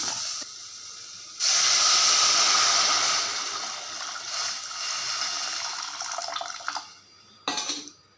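Tamarind water poured into a hot pan of sautéed onions for rasam sizzles with a loud steaming hiss that gradually settles, followed by a short renewed burst near the end, with no talking.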